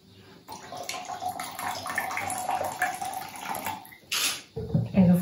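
Water and red wine vinegar are poured onto hard, stale bread in a kitchen, giving a steady splashing stream that shifts and stops near the end, with clatter close by.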